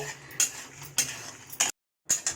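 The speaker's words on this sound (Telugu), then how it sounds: "గసగసాలు, ఎండుమిరపకాయలు, జీలకర్ర వేసి వేయించుకోవాలి ఫ్రెండ్స్." Poppy seeds, dry red chillies and cumin dry-roasting in a pan, heard as a few short scraping, clinking stirs of a spoon against the pan, spaced apart and quiet, with a brief gap of silence.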